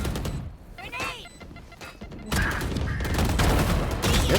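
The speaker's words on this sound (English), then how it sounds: "I'm surprised that nade did not take him out" Grenade blast in a Valorant esports match, a dense burst of broadband noise erupting midway and lingering, mixed with scattered game effects and commentator talk underneath.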